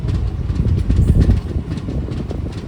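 Villupuram SF Express running along the rails, a steady loud rumble with rhythmic clatter and rolling wagon noise throughout, no voices.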